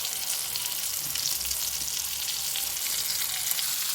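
Chicken sautéing in a pan gives a loud, constant sizzle up close, with faint stirring underneath and no voices.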